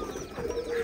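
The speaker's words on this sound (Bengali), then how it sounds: "এই যে মিল্টন ভাইয়ের সেই কবুতরের খামার, অসাধারণ" A pigeon at a pigeon farm gives a soft, brief low coo, faint against quiet background noise.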